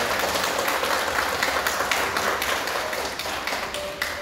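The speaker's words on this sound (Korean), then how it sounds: "우리 환영회 우리 박수 한번 할까요?" A church congregation claps steadily and warmly throughout to welcome a newly registered family during a Sunday worship service, a dense, even wash of many hands with no voices standing out.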